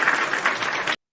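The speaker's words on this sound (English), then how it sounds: "Round of applause for you guys." Applause from a live show audience, a steady burst of clapping that holds evenly for about a second and then cuts off abruptly.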